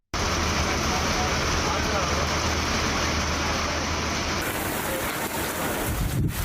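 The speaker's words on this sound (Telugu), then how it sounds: "గంటపాటు ఏకధాటిగా వర్షం కురిసింది" Heavy rain in Telangana, India pours down in a steady, dense hiss that stays constant throughout, close and loud.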